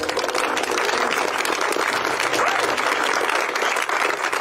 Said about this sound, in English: this man deserves all the acknowledgement and a round of applause for that